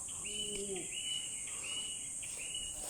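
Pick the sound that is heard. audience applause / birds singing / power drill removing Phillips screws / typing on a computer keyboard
birds singing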